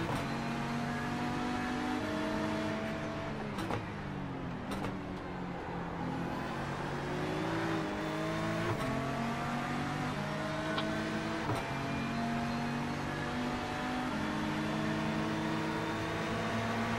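Race car engines roar continuously in a Bathurst 12 Hours racing game as cars overtake a Ferrari, with layered engine tones rising and falling through gear shifts and passing cars, loud and close, with no talk.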